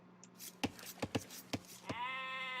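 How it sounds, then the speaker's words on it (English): Sheep in a strategy video game: several soft, quick thumps and clicks, then a single clear, wavering bleat near the end, quiet and close. "finding some more sheep"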